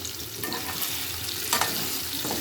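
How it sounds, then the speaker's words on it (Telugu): Food fries in oil in a pan while Telugu home cooking is under way, giving a continuous soft sizzle with a few brief stirring scrapes and spatters. No one speaks. "ఇప్పుడు వేపుకుందాం."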